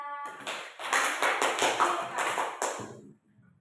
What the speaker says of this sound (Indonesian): beri aplaus untuk Dila